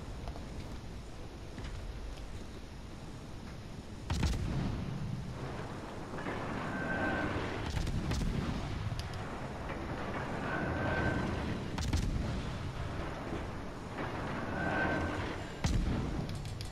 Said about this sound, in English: Gonna wait for this New Mexico to shoot.